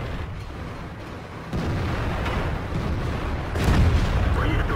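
Tank cannon shots in World of Tanks from a T-62A, heavy booming blasts with a sharp onset midway and a louder one near the end over rumbling battle noise.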